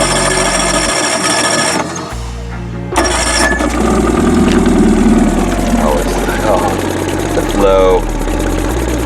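Boat outboard engine starting after a couple of brief cranking attempts, then settling into a loud, steady running drone close by, with a short spoken word over it.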